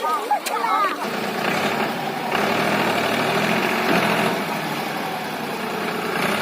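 A tractor engine runs nearby on a farm, a steady rumbling, knocking drone that stays loud and fairly close throughout, with voices talking over it.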